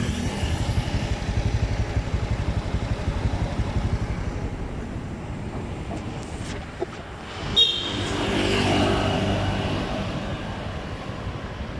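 A motorcycle engine runs steadily at idle, left going so its heat can dry wet shoes, with a continuous close rumble that dips briefly and then resumes with a short clatter near the end.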